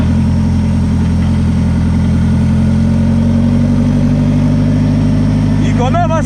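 A homemade car's engine drones loud and steady up close, its pitch gradually rising as it accelerates, with people talking over the noise.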